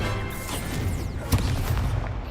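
A Confringo explosion spell goes off in the Hogwarts Legacy video game: a dense, roaring blast layer with a sharp boom about a third of the way through, set against busy continuous game effects.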